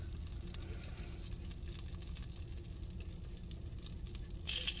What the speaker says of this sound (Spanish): esperamos a que se derrita nuestra mantequilla antes de empezar a agregar los vegetales